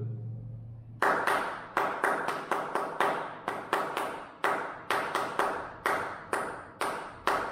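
A full rhythm exercise for an aptitude-exam prep class is clapped by hand: a steady run of about eighteen sharp, close claps in a syncopated pattern with some quick pairs, ringing slightly in a room.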